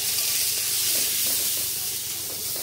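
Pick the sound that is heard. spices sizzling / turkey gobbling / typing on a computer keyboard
spices sizzling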